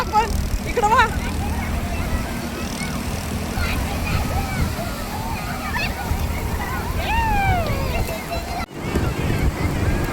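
Ocean surf at Alibag beach during high tide rolls in as a steady, loud wash close by, with voices and chatter carrying over the surging water and wind buffeting the microphone.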